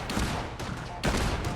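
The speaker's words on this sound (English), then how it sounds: "Am I being shot at?" Rapid bursts of gunfire from Fallout 4 crack out in two clusters, loud and close, with a short gap between them, as shots come toward the player.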